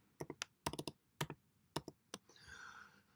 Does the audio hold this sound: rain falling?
no